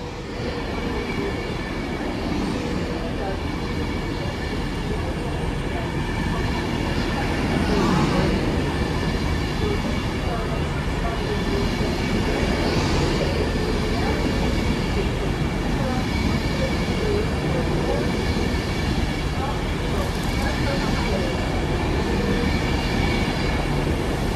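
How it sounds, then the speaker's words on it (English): An Avanti West Coast Class 390 passenger train running at speed on the West Coast Main Line: a loud, continuous rush of wheels and air that lasts throughout, with faint rhythmic clatter over rail joints. "here comes the pass of Avanti West Coast service to Manchester Piccadilly via Stoke-on-Trent from London Euston"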